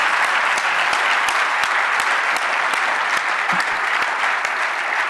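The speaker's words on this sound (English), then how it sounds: "I want to have a huge applause actually for Michael for the entrepreneurial journey." Sustained applause from an audience at a startup pitch night, continuous clapping with a few sharper individual claps standing out, loud and even from start to finish.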